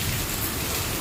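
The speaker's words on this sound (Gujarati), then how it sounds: "મસ્ત વરસાદ ચાલુ થઈ ગયો છે." Steady rain pours down during an evening monsoon shower at home, a dense, even hiss with no breaks and no voices.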